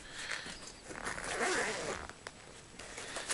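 A zipper on a Nikon camera bag holding a Nikon 1 J4 camera is pulled open in one continuous close rasp, followed by a few short fabric rustles.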